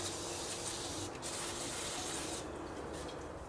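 Brake cleaner sprayed onto the suspension nuts of a 2004-2008 Nissan Murano during control arm and brake work: a steady, close hiss for several seconds, briefly softening about a third of the way in and easing again near the end.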